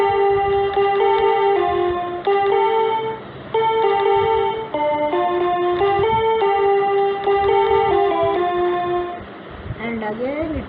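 A song played on a Bigfun toy piano with a bright electronic tone and effects. A steady melody of repeated lines is heard with short pauses between phrases.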